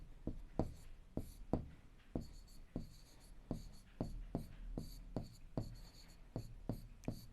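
Chalk tapping and scraping on a classroom board during a Class 7 maths lesson, a steady run of about a dozen sharp, close strokes with faint rubbing between them and no talk over it.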